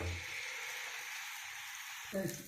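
Ragi dosa batter cooks on a hot pan with a soft, steady sizzle that stays fairly faint. A brief clatter near the end rises above it.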